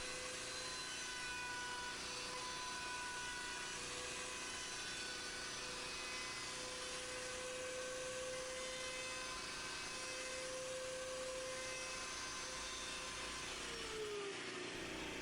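A bridge saddle slot mill cutter plunges into wood to cut a saddle slot, giving a steady, loud, continuous whirring and grinding drone with a high tonal whine, running unbroken throughout and easing off right at the end.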